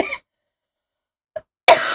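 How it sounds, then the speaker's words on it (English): A short cough bursts out, then after a pause a faint little sound, and a louder cough starts just before the end. Nobody speaks. "I swear I don't cough this much in real life."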